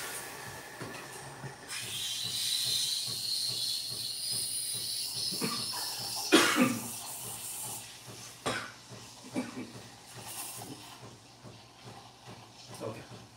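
A Breville Barista Pro espresso machine's steam wand froths milk with a steady hissing rush that builds and fluctuates, broken by a louder gurgling surge midway, with faint room noise beneath.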